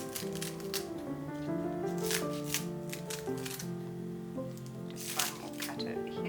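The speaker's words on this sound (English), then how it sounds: "using scissors, chop over the top." Kitchen scissors snip fresh green herbs over the top of a homemade quiche, a string of soft, crisp cuts close by, partly masked by steady background music.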